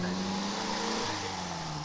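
A small MG Midget classic car engine hums steadily at an even pitch like a sewing machine, a continuous close drone that holds for the whole stretch, at a classic car show.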